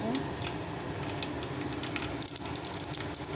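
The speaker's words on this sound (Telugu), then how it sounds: "ఆయిల్ హీట్ అయిందండి, ఆవాలు జీలకర్ర వేసుకుందాము." Mustard seeds and cumin sizzle in hot oil for upma, a steady close frying hiss with scattered faint pops throughout, no voices.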